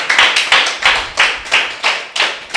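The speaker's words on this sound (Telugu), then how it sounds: "మరి శివమ్మ గారికి గట్టిగా క్లాప్ చేద్దాం" A small group claps steadily in rhythm at a meditation gathering, loud, close and even-paced sharp claps with no voices over them.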